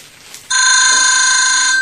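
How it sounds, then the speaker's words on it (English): An electronic telephone ringtone breaks in abruptly after a quiet moment, a loud sustained trill that continues alone. "a phone call."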